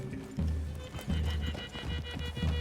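Horses' hooves clip-clop in a steady walking rhythm through a wooded clearing in Red Dead Redemption 2, with an occasional soft whinny, close and clear with no talk.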